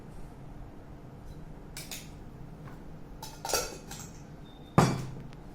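A spoon clinks and scrapes against a Sheffield electric kettle while sugar is added for mint tea, a few scattered metallic taps with a sharper clink near the end.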